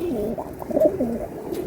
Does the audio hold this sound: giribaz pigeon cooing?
yes